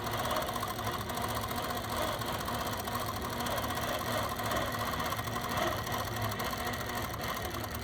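An APQS computerized longarm quilting machine stitching steadily, a continuous rapid mechanical whir with a fast regular needle rhythm, loud and close with no talking.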